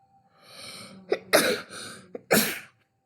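Two sharp coughs close to the microphone, preceded by a brief throat sound, with quiet gaps between them.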